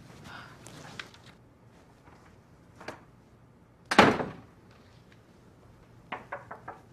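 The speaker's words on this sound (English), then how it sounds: "That's how you knock on an office door." Knocking on an office door, heard as several knocks spread across the span, with one loud, sharp, close rap standing out, then a quick run of lighter knocks near the end.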